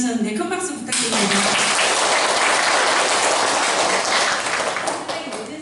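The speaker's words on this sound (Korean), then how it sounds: "오늘 강의해주신 두 분 헬레나 교육위원님 그리고 크리스타 교육위원님 너무 고생하셨는데 큰 박수 부탁드립니다" Sustained audience applause for two lecturers at the close of an evening ecological-spirituality education lecture; a brief voice at the start gives way to steady, full clapping that fades at the end.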